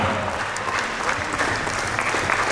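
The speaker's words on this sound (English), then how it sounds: "A big round of applause." A school annual day audience applauds staff being recognised at Ikshana School, dense continuous clapping from a crowd, loud and steady throughout, with faint voices beneath.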